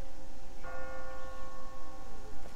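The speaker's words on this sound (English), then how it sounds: "I just got spooked by those bells" A church bell strikes once in The Walking Dead game, and a clear ringing tone hangs over a steady background hum before fading.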